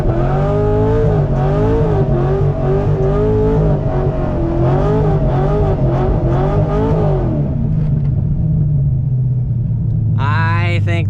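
A straight-piped Corvette engine roars loudly and close, revving hard with rising and falling pitch as it accelerates down the track, then drops to a lower idle rumble before a short, sharp burst of higher-pitched whine at the end.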